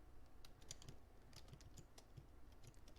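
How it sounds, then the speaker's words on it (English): Fast, steady clicking of typing on a mechanical computer keyboard, close and quiet, with a run of sharp individual keystrokes and no voices. "If you hear the clickety-clack under my voice, it's my mechanical keyboard."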